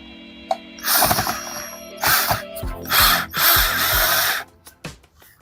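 A power drill driving drywall screws, loud close bursts of whirring motor of about a second each, separated by short pauses, with a few small clicks and clunks at the end.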